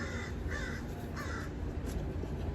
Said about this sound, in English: Crazy bird.